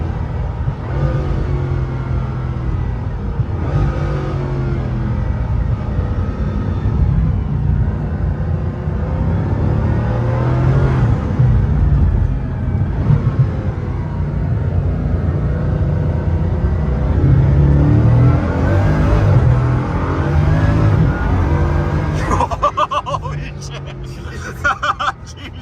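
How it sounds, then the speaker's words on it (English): Turbocharged car accelerating on a city street, a low engine rumble that swells and surges as the turbos build, heard from inside the cabin with people talking over it. "When the turbos kick in."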